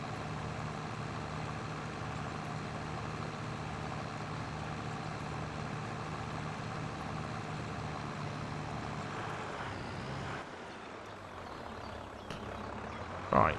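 Worn-out tractor engine in Farming Simulator 22, a steady droning rumble that runs loud and unbroken for about ten seconds, then dips and thins before a brief burst near the end.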